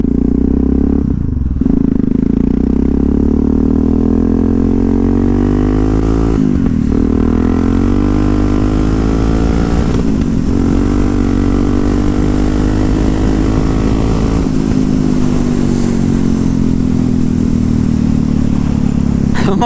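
A Yamaha MT-03 single-cylinder motorcycle pulls hard in fourth gear, its loud thumping engine note rising steadily over a long run with a couple of brief dips, close and continuous.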